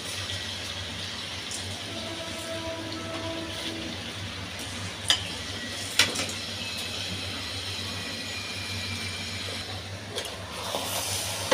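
Rice and lentils being washed in water for vegetable khichuri, a steady close splashing and trickling with a couple of sharp clinks against the pot.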